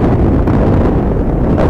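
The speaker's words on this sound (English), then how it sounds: "And we have a brutal wind today. It's been a very windy spring, and today is as gusty as we've had it." Gusty spring wind at an outdoor high school baseball game buffets the microphone as a loud, continuous low rumble that swells and dips slightly over a short moment, with no talk.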